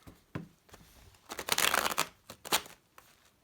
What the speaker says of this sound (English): Sorry, that was bad shuffling.